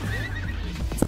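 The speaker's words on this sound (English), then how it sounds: "Why'd I kill the horse?" A horse in a video game whinnies once amid a busy game soundscape, the call held for about a second before a sharp thump closes it.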